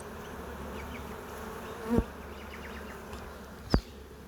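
Honey bees buzz around a hive frame during a spring apiary check in Melbourne, a soft continuous drone close by, with a couple of brief louder knocks or bumps against the frame.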